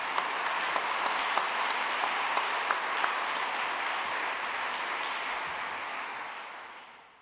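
Sustained, dense audience applause at an academic ceremony, steady and full for several seconds before gradually dying away near the end, with no talk over it.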